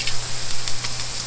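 Steaks sizzling on an open-lid barbecue grill, a steady close hiss with soft irregular crackles and a low hum underneath.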